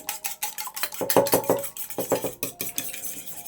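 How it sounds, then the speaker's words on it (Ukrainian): Eggs are beaten in a small bowl, giving quick, rhythmic clicking taps of a fork or whisk against the dish, close and clear with no talking. "в невеликій мисочці збиваємо яйця"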